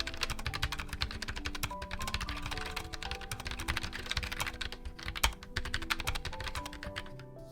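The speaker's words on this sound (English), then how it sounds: "this is my keyboard. I actually have the Keychron K2. It sounds super nice." Fast, continuous typing on a Keychron K2 mechanical keyboard during a speed test, crisp clicky keystrokes rattling along steadily and close up, with no talking.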